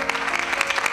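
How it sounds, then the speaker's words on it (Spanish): Studio audience applauding a guest on a Spanish television talk show, a short burst of dense, steady clapping throughout. "pido un aplauso para Daniel Ramos"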